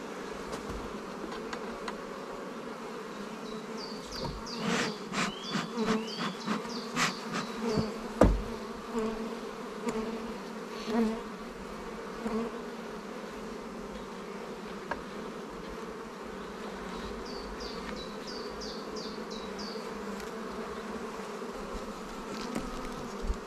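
Honey bees humming steadily over a hive frame, a dense continuous drone close to the microphone with occasional louder passes of individual bees, no talking.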